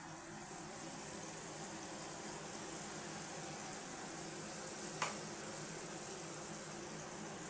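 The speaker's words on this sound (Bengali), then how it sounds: "এইবার আমি পোস্তটা দিয়ে দিচ্ছি" Poppy seeds and mustard seeds sizzle in hot oil in a pan for pointed gourd cooking, a steady hissing fry with one brief sharp crackle.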